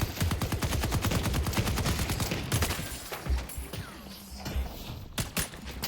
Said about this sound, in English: Why are these shots so beefy?